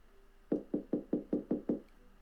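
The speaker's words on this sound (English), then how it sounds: "I open my eyes to the incessant sound of fists banging on my door" Fists bang on a door in seven heavy, evenly spaced knocks, loud and close, with no voices.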